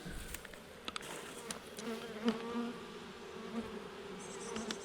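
Bees from an opened beehive, one of several hives with some beetles present, hum in a steady low buzz that swells and fades as individual insects fly close past, with no voices over it.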